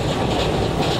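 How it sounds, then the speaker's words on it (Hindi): Train track noise heard from a Vande Bharat Express in a train simulator game, a loud, steady rolling rumble with faint rhythmic clatter of wheels over rails and no talking. "ट्रैक साउंड हो रही है बाहर।"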